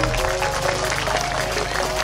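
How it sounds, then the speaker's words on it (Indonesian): A neighbourhood crowd at a 17 August Gebrak Kampung event in Petamburan, Jakarta, claps for Kimia Farma in a short burst of applause over a steady tonal background. "Tepuk tangan Kimia Farma"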